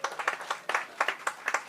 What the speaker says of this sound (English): Now, come on, round of applause, come on.